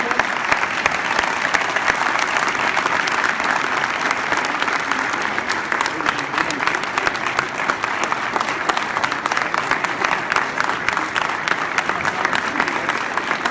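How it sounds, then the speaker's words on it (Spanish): An audience applauds a speaker at a Coparmex Chihuahua business event, with sustained, even clapping from a large crowd over roughly thirteen seconds, heard at moderate distance. "Un aplauso."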